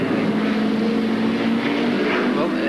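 Sports sedan race cars at Amaroo Park in 1982, a loud sustained engine roar under a commentator's voice, steady and close with a slight rise in pitch toward the end.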